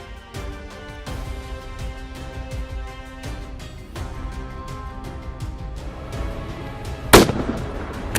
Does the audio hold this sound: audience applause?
no